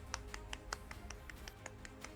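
Small, light handclaps ring out in a quick, slightly uneven series of about a dozen sharp taps, close and faint, with no voices.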